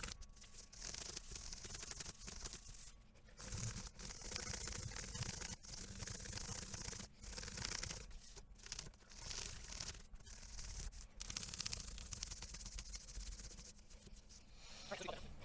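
Abrasive grit is rubbed back and forth over the frets of a 1973 Guild F50 acoustic guitar, making quiet, close, scratchy strokes in uneven bursts with short pauses between them.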